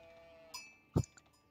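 A single short sheep bleat from Age of Empires IV rings out near a faint chime, followed by a softer trailing note over a quiet background.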